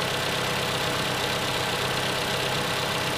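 A 2014 Toyota Camry 2.5-liter engine idles with a steady, even hum and no talking.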